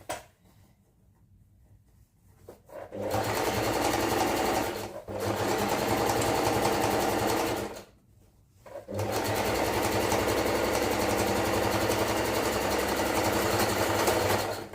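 A sewing machine whirs steadily in long stitching runs, pausing twice briefly before starting up again, close and continuous.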